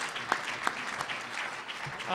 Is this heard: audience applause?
yes